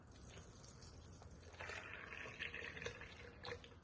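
Milk is poured from a container into an orange juice concentrate cardboard cup, a soft continuous liquid trickle and splash, quiet and close, with no talking.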